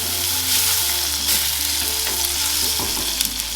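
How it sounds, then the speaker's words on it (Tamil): Half a tomato and two green chilies sauté in a hot pan for a Tamil-style anchovy (nethili) avial, with a steady, close sizzle and light stirring scrapes throughout, no voices. "பாதி தக்காளி பழமும் ரெண்டு பச்சை மிளகாய் இது லைட்டாக வதக்கிக்கோங்க"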